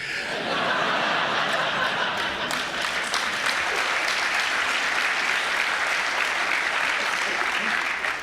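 A comedy club crowd at Bremen breaks into loud, steady applause after a stand-up joke, a thick wash of clapping mixed with scattered chuckles and laughter that carries on for several seconds.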